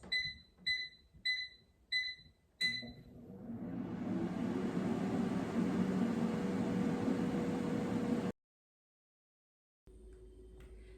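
An air fryer set to 400 degrees Fahrenheit for a whole fish gives five short electronic beeps, then runs with a steady whirring fan hum for several seconds before cutting off abruptly, and a quieter hum follows.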